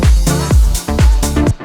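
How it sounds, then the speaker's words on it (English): Reverse crash cymbal sample in a deep house track: swelling washes of bright noise that rise and cut off, heard alongside punchy kick drum hits in a steady beat, with no voices. "Reverse crash."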